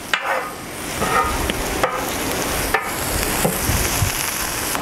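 Egg and feta mixture stirred on a hot plancha, a steady soft sizzle with scraping stir strokes and a few sharp utensil clicks against the metal surface.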